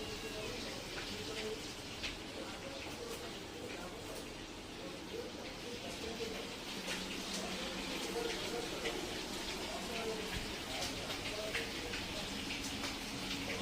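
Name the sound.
heavy rain falling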